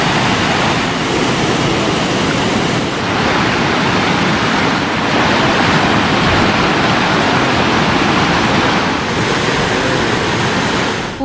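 Floodwater surging through the Chithirai Chavadi dam area, a loud, continuous roar of rushing water with no pause or voices.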